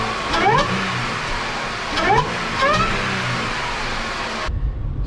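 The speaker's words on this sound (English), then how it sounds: "I get to enjoy the sounds of a supercharger" A Jaguar sedan's supercharged engine revs up three times in quick bursts, each rising pitch sweep climbing over a steady motor drone, before cutting off abruptly.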